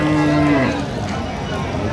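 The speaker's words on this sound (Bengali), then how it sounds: "গাভী বাছুর" A cow or calf moos loudly and close by at a busy cattle market in Aftabganj, Dinajpur, its sustained low call lasting about half a second and then fading into steady crowd murmur.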